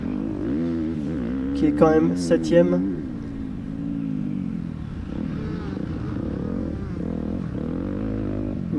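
Motocross motorcycles race on sand at the Pro Hexis Sand Race, engines droning and revving steadily with a brief louder burst, under a commentator's continuous talk.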